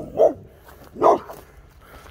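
Friendly neighborhood dogs bark outdoors, two distinct loud barks about a second apart with quieter background between.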